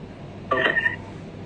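A computer voice-call app plays a single short electronic ringing tone, clear and close, rising out of quiet room hiss and ending after about half a second.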